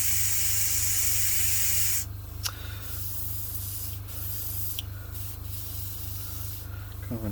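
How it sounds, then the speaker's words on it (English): An airbrush spraying acrylic paint onto a Bandai A-wing model kit, a steady close hiss that drops to a softer, thinner spray partway through, with a couple of faint clicks and no speech. "Come on, airbrush, don't fail me now."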